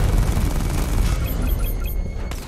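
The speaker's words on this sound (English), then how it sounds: "Missile barrage level 2 ready." A Batmobile missile barrage in Batman: Arkham Knight: a dense, loud rumble of rapid blasts and booms rolling together, with thinner crackling impacts toward the end.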